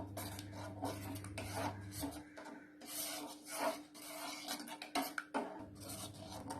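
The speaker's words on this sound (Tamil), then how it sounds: "இப்போ இதையும் நல்லா மிக்ஸ் பண்ணி விட்டுருங்க" A spoon stirs milk into sathu maavu porridge in a pot, giving faint scraping and rubbing strokes in an irregular rhythm, close by and quiet, with a low hum under the first couple of seconds.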